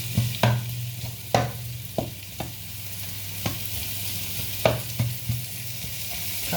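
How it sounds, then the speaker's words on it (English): Leftover fried rice sizzles in a hot pan while a spatula chops and scrapes through it, sharp irregular knocks and scrapes over a steady frying hiss, close and alone without talk. "Kind of chopping up the fried rice."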